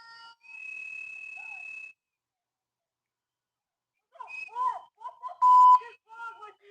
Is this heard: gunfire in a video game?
no